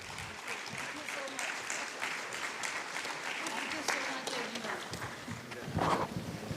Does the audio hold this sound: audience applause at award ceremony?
yes